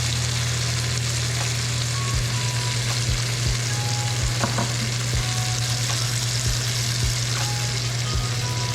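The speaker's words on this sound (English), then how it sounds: "Pour soy sauce evenly on top." Soy sauce sizzling over a marbled beef steak and asparagus frying in a pan, a continuous loud crackling hiss with scattered sharp pops and light utensil taps.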